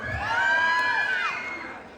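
A beauty pageant audience cheers and shouts during a national costume segment, with one high, drawn-out whooping cry rising above the crowd noise for about two seconds.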